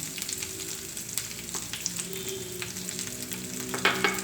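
Crushed red chilli, salt, onion powder, crushed coriander and chicken powder cook in a pan on ginger-garlic paste, sizzling steadily while a utensil scrapes and stirs in occasional clicks, close up, with a louder scrape near the end.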